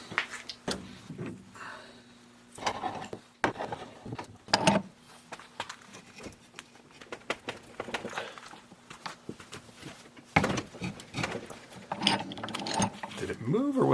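A wrench works on a track tension spring, giving sharp metallic ratcheting clicks and clanks in scattered bursts up close, with brief mechanical knocks and a faint voice at times.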